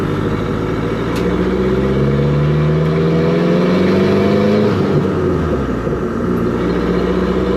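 A chassis-swapped 1959 Mercedes rat rod drives close by with a loud, rumbling engine whose pitch rises and falls as it accelerates and eases off over grass, continuous throughout.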